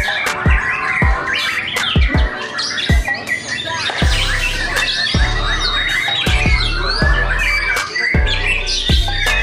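Loud, varied white-rumped shama song of whistles, chirps and squawks, punctuated by repeated sharp knocks at fairly regular intervals.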